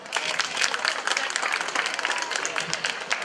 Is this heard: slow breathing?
no